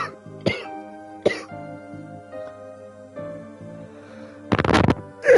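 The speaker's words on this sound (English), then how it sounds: "Why am I coughing so much?" A person coughs and clears their throat in several harsh bursts, the last ones loudest and closest, separated by pauses over a quiet, steady musical background.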